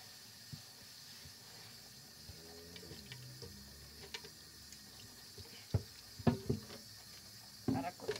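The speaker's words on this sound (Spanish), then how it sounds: "Yo siempre lavo mi tabla de picar. Hay que lavarla bien lavada." Quiet running water and scattered clatter as a cutting board is washed with soap in a kitchen sink, soft hissing flow with a few louder knocks and splashes toward the end.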